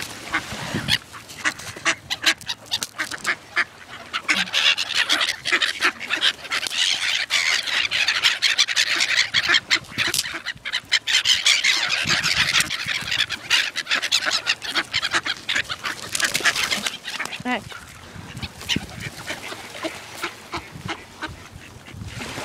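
Gulls and pigeons call in a busy flock: a dense, continuous stream of shrill squeals and squawks, loud and close, for over twenty seconds with no talking.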